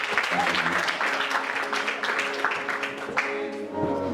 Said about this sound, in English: So clap for Jesus Christ.